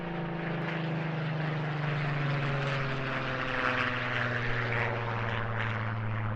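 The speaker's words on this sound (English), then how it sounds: "This aircraft, Papa Sierra 853, an unarmed high-altitude reconnaissance aircraft, one of a batch of 79 built at Supermarine Spitfire at Southampton." Supermarine Spitfire unarmed high-altitude reconnaissance aircraft, built at Southampton, flying past at an airshow: a steady, loud piston-engine drone with a sustained propeller tone that swells slightly mid-pass, no voices.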